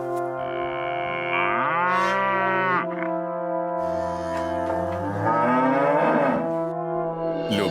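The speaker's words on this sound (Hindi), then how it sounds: "और गाय रंभाने लगती है" A cow in a cowshed, fed fodder by a milkman in an animated Hindi story, lets out several long, loud, drawn-out moos in succession, with a slightly processed tone and no talk.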